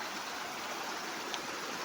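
A river at Tanay flows in a steady, broadband rush of water, constant and fairly loud, with no talking.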